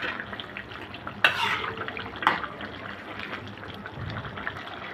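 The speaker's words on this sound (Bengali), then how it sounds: "ভালো করে নেড়ে নেব।" Beef tripe bhuna with whole green chillies being stirred in a pan as the liquid dries off, a faint sizzle broken by two sharp scraping clanks of the spoon.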